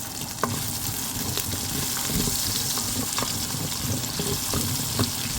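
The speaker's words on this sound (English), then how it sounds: "Add in onion and garlic and saute till fragrant." Onion and garlic sautéing in a pot for a Hungarian beef and sour cabbage stew, with a loud, steady sizzle and occasional clinks of a utensil stirring through it, heard up close.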